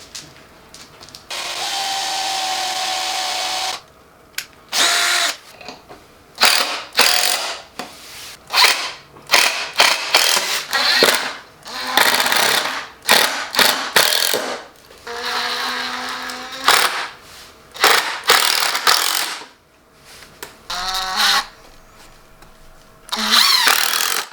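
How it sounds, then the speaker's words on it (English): A power drill whirs in repeated short bursts while drilling pilot holes and driving screws into wood for a wooden Christmas tree, with starts and stops and brief pauses between runs; the sound is close and loud, and no one speaks. "So now we're going to try with a pilot hole and screws."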